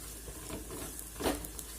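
Masala stirred into vegetables in a pot for a vegetable biryani, giving a quiet sizzle with soft scraping strokes and one louder stir toward the end.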